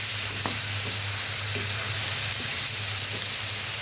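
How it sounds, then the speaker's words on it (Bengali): Spices frying in a pan for Bengali chicken kosha, a steady close sizzle with faint stirring scrapes throughout, no talking. "এই তো এখানে আমি মশলাগুলো সুন্দর করে ভেজে নিচ্ছি যাতে মশলা থেকে কাঁচা গন্ধগুলো চলে যায়"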